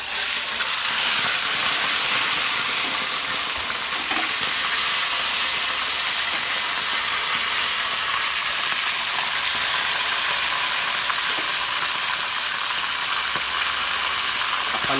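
Stuffed squid deep-frying in a pan of hot oil, a loud continuous bright sizzle and hiss holding steady from start to finish with no voices over it.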